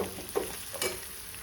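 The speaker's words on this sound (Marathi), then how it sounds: "थोडंसं परतून घ्यायचं तो। थोडासा हिंग थोडीशी हळद त्यामध्ये टाकून" Asafoetida and turmeric sizzle in hot oil in a pan, a steady close frying hiss with a few soft stirring scrapes.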